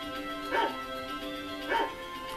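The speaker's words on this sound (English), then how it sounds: "he also makes a noise that's a barking dog" Two short bark-like calls from a game character in Defenders of Light, a barking-dog noise that stands in for the character saying his name, heard over a steady tonal game soundtrack.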